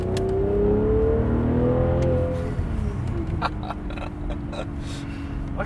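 A V12 BMW 7 Series drives and accelerates, its smooth engine note rising steadily, easing off, then settling into a constant, fairly loud close-up hum with some rattles and bumps.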